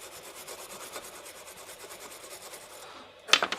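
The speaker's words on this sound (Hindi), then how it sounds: "अब इसमें हम क्लीनर डालेंगे और इसको क्लीन करेंगे।" A phone's Type-C charging jack is scrubbed clean with cleaner, producing a fast, steady, faint scratchy rubbing in an even rhythm, ending with a few louder clicks and scrapes.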